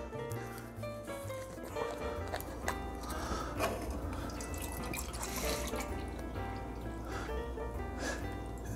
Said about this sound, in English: From here, 1 cup of lime juice.